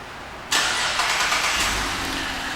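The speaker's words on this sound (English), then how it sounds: "let's go ahead and demonstrate the remote start" A 2011 Cadillac CTS Premium coupe engine fires up by remote start after a moment of quiet, catching abruptly and settling into a steady idle close by, with no talking.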